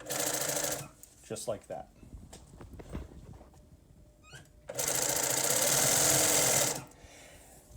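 A sewing machine stitches a French fell seam through nylon and ribbon in two loud, steady mechanical bursts, one at the start and one longer run later, with a speaking voice and handling noises in between.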